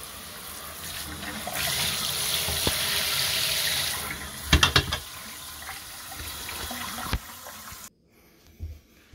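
Cold tap water runs steadily into a sink while parts of an external aquarium filter are rinsed. A few clattering knocks of the parts break through before the flow cuts off, with a brief bump afterward.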